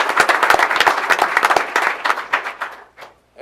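A room at a school board of education meeting breaks into loud, close applause for a championship team, dense clapping that thins out and fades toward the end.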